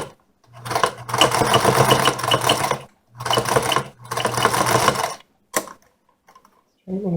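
A sewing machine stitches around the edge of a leather beak piece in two long loud bursts with a short pause between, followed by a brief stop-start and then quiet with faint handling.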